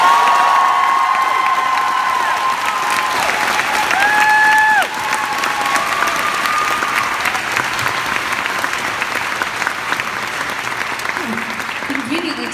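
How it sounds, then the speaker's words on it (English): A concert audience applauds and cheers loudly for several seconds, a dense wash of clapping with whoops. Partway through, the applause drops slightly and then carries on steadily, while a voice speaks over it. "A massive round of applause for our friend Gabriel McNair."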